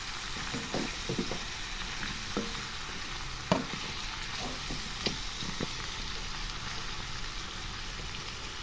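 Chicken and cauliflower frying in oil with dried chillies for a hotel-style Labori cauliflower chicken gravy, a steady close sizzle with occasional stirring clicks and scrapes throughout.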